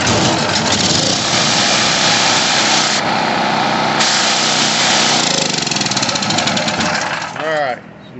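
A Wen PowerPro 3500 generator engine, just after a carburetor repair, runs loud and steady at close range, then sputters and winds down near the end while a voice speaks over it.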